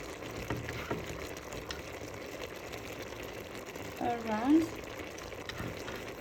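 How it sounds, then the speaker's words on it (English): Garlic sprinkled over partly cooked onions fries in a pan for coconut beans, a low steady sizzle with faint crackles close by, while a voice briefly hums or speaks over it. "now I'm going to put garlic all around"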